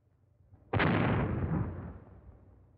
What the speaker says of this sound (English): They seem always to be firing cannons in my honor.